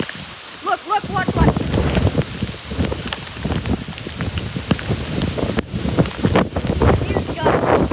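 Strong derecho wind gusts roaring and buffeting loudly around the microphone, with rain and debris noise mixed in and a voice exclaiming over the steady blast.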